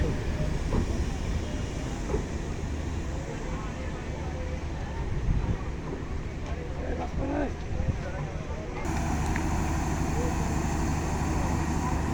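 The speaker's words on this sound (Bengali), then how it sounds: "ট্রেনটি আস্তে আস্তে সামনের দিকে চলে যাচ্ছে" A long passenger train from Dhaka creeps slowly out of a station near Gazipur, giving a steady low rumble and rolling wheel noise that carries on throughout, with platform bustle and voices in the background.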